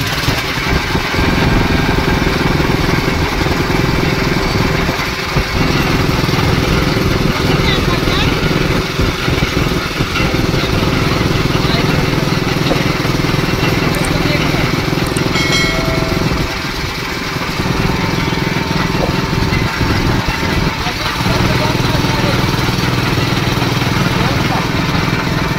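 A newly bought sugarcane juice machine runs steadily with a loud, continuous motor drone and mechanical rattle, nearby and unbroken throughout, with voices talking over it.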